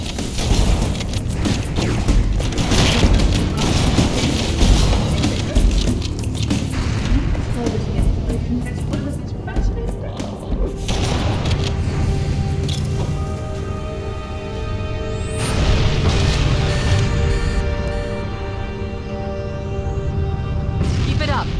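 Explosives detonating against fusion reactors in Halo: Combat Evolved: dense, sustained rumbling blasts and crackling bursts that layer over a constant roar of game action for the whole stretch, with a rising tonal whine near the end.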